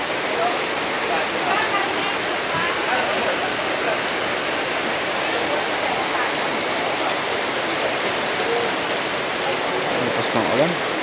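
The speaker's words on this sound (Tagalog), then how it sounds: "At habang nga po kami naabutan ng ulan" Dense, steady hiss of heavy rain pouring down without letup on the way to a farm, a broad constant wash of sound close by.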